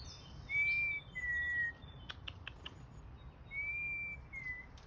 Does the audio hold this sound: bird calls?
yes